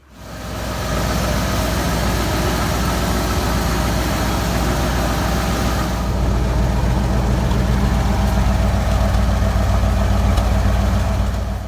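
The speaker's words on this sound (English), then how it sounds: "we'll let it run till the engine gets warm" A 1966 Ford Mustang Fastback engine idles steadily while warming up, a continuous low rumble holding an even level throughout with no voices.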